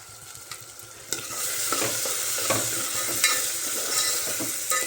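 Capsicum and tomato sautéing in oil for pav bhaji, a continuous sizzle that swells after the first second, broken by a few sharp scrapes and taps of a spoon in the pan.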